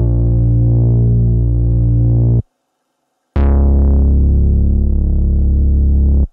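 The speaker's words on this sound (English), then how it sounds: "we've got a synth bass as well. This is from Repro" Deep synth bass from the Repro plugin in a beat, two sustained, loud low notes separated by a short silence, the second with a bright attack that mellows.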